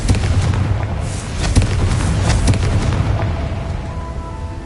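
A Confringo fire spell blasts in Hogwarts Legacy, a loud, dense, rumbling explosion that sustains for several seconds with crackling bursts and a slow fade.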